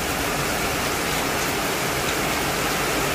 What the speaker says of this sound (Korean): 3분 영상으로 비 오는 거 처마에서 툭툭툭툭 떨어지는 거 찍었습니다.